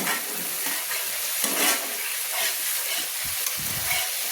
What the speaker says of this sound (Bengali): আমি ভালো করে আর একটু নেড়ে নিচ্ছি